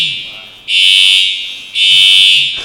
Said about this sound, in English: then the alarm goes out.